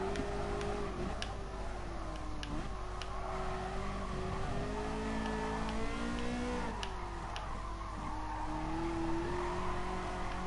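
A racing car engine in the Gran Turismo Sport video game roars continuously, its pitch climbing and dropping with gear shifts, alongside occasional tire squeals, steady and fairly loud.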